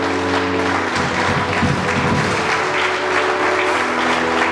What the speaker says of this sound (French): Acclamez, acclamez, acclamez, acclamez.